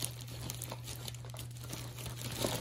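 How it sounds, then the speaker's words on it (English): A plastic Christmas grab bag being cut open, giving soft, close crinkling and crackling over a low steady hum, quiet throughout. "I'm just going to cut this one open."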